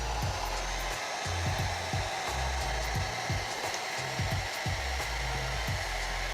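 A Xiaomi hair dryer runs on its first speed setting with a steady whooshing blow and a low pulsing hum underneath, close and continuous with no talking.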